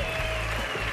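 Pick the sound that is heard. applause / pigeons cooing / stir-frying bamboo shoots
applause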